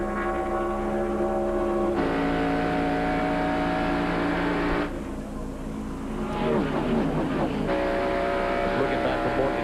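NASCAR stock cars racing at Michigan in the 1993 Champion Spark Plug 400, a loud onboard engine drone with strong steady harmonic tones that shift pitch through gear and throttle changes, briefly dipping as another car's roar passes.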